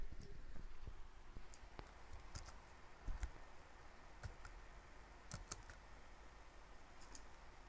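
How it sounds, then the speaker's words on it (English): Faint, sparse keyboard clicks from typing text into a photo-editing program, scattered irregular taps over a low steady background hiss. "And I'll just type in some text here."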